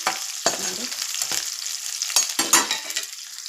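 Curry leaves and onion fry in hot oil in a pan for a masala brinjal sambar: a steady close sizzle with a few louder scraping bursts as the mixture is stirred, and no voices.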